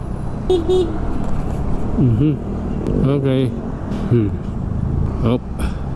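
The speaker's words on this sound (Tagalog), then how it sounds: "Ayan, siksikan, traffic na rito eh." Dense, jammed road traffic on EDSA heard from a motorcycle, a steady roar of engines with a brief honk, running under a voice talking throughout.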